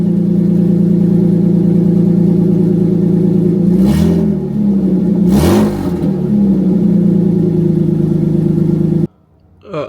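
Engine of a TB48 running through a straight exhaust without a muffler, loud and raspy at a steady idle, with two sharp revs blipping up and back down midway before cutting to near silence at the end.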